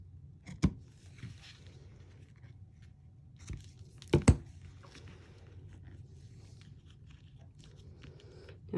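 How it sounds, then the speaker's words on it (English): Ribbon scissors trimming the end of a ribbon on a handmade paper-craft card, with a single crisp snip and then a quick double snip close by, set against quiet room tone. "we're just going to take our ribbon scissors and we're just going to trim that"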